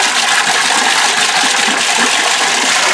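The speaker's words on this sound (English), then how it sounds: "Both hot and cold are running full blast." Hot and cold sink taps running full blast beside a laundry setup, a loud, continuous broadband rush of water pouring and splashing into the basin without pause.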